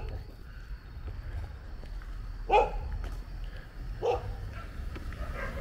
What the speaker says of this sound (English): Got a lively little bunch of dogs behind me.